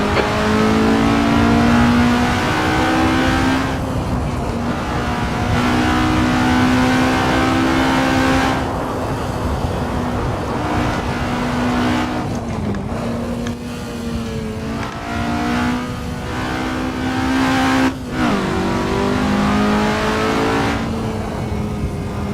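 A race car engine in the Assetto Corsa video game, a Formula ground-effect car at Monaco, screams loud and close at high revs, holding near flat out with brief dips for gear changes and corners.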